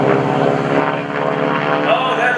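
A propeller airshow plane at the 2015 Greenwood Lake Airshow performs a barrel roll, its engine droning loud and steady while an announcer talks over it.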